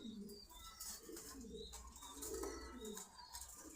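Pigeons at a pigeon farm coo continuously in overlapping, rolling calls with scattered chirps, a close, dense flock sound with no talk.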